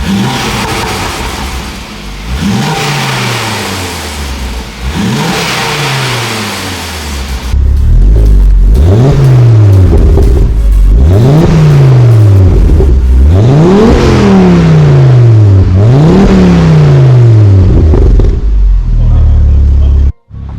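Mk2 Ford Focus ST engine with a Scorpion exhaust revving repeatedly nearby, sharp rising blips that fall back to idle, growing louder and more frequent halfway through before cutting off abruptly.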